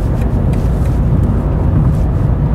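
BMW 3 Series (330i M Sport or M340i xDrive) cruising at 120 km/h, a loud continuous low road and engine roar heard from inside the cabin, even and unbroken with no talking.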